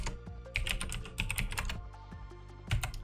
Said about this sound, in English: And then you will type in bb.showliveeditobjects.